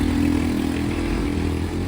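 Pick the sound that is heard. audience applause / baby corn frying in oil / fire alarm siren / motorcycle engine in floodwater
motorcycle engine in floodwater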